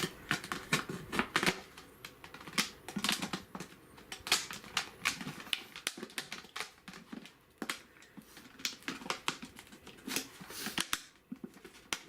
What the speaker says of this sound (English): So carefully put a box cutter in